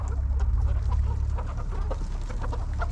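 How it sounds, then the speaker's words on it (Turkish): Lohman Sandy hens cluck steadily indoors in a free-range coop, several birds making close, overlapping soft clucks over a constant low background hum. "Tavukları daha yeni içeriye aldım."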